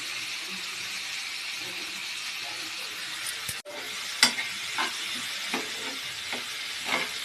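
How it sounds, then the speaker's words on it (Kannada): Tomatoes sautéing in oil for a tomato palya, a continuous close sizzle broken by a sharp click and then several scraping strokes of a spoon stirring the pan, with no voices. "ಚೆನ್ನಾಗಿ ಟೊಮೆಟೊ ಅದೆಲ್ಲ ಮಿಕ್ಸ್ ಮಾಡಿ ಚೆನ್ನಾಗಿ ಎಣ್ಣೆಯಲ್ಲಿ ಬಾಡಿಸಿ"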